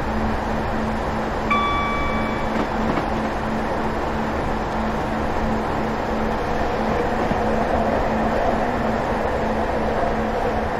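A Class 150 diesel multiple unit runs in Train Simulator 2018 on the Cardiff Central to Taunton route, giving a steady droning rumble with a continuous hum and a short chime-like ding early on, in rain.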